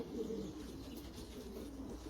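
Ten pigeons at their morning feed, cooing steadily in soft overlapping murmurs close by, with a few brief chirps and no talk.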